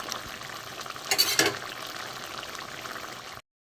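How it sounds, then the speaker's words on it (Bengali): Bata fish going into a simmering aubergine and potato curry in a pan, heard as a soft steady sizzle with a brief louder burst of stirring and splashing partway through before the sound cuts off. "এবার আমি এতে বাটা মাছগুলো দিয়ে দেবো"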